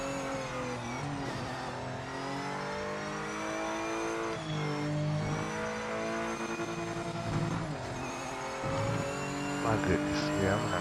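A race car in the Project Motor Racing video game, its engine revving and climbing through gears in repeated rising sweeps, with someone talking over the continuous engine drone.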